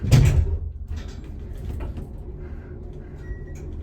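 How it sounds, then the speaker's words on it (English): An old Westinghouse elevator door with a rubber band door operator slides and thumps shut with a sharp close at the start, followed by faint mechanical clicks and a soft hum. "There's a rubber band door operator though, which is interesting."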